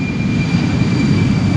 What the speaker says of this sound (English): Another Embraer, going to Inverness.